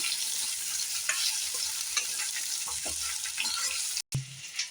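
Cauliflower sautéing in ghee with a steady, moderate sizzle and occasional stirring scrapes, briefly interrupted near the end.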